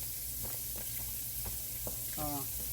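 Ribs seasoned with garlic powder, complete seasoning, black pepper and salt fry in oil that comes halfway up the meat, giving a steady broadband sizzle with a steady low hum underneath and a brief faint voice partway through.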